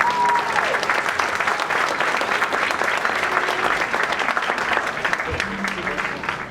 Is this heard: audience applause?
yes